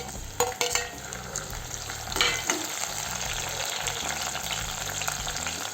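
Tomatoes tipped into fried onions in a pan, a couple of sharp clatters at the start followed by a steady, close sizzle with occasional stirring.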